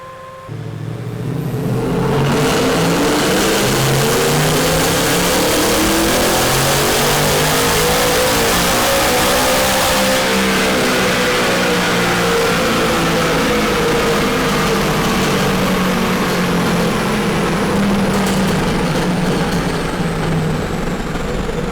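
Supercharged 2019 Ford Mustang 5.0 with a Whipple blower revving on a dyno, climbing in one long loud pull from low rumble to a high screaming wail, sustained for about twenty seconds.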